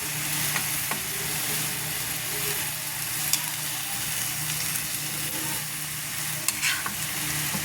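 Bean sprouts (togue) are stir-fried in a pan, sizzling steadily at close range while a spatula scrapes and taps now and then. No one speaks during it.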